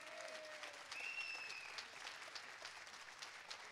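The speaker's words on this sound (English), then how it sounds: "A big applause for him." Faint, steady audience applause at a Geek Camp tech gathering, sounding somewhat distant, with a brief thin whistle rising above the clapping.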